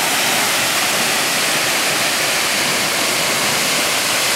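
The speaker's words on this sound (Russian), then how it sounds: "водопад Арвалем. Вот такой вот он, не сильно высокий, но классный." Steady, full-bodied roar of water from the Harvalem waterfall in Goa, India, a modest-height fall pouring continuously, close and loud with no other sounds.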